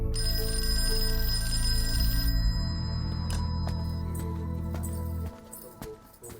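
A telephone rings insistently, a repeating electronic trill over a steady low hum, fading out near the end.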